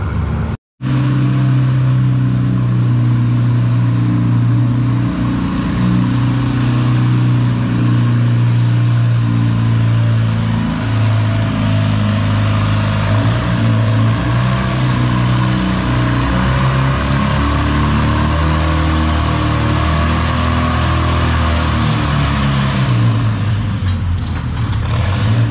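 Farmall H tractor engine roaring steadily at high revs during a 5000 lb ladder bracket tractor pull at Moses Lake, loud and continuous with a strong low drone that sags and recovers near the end.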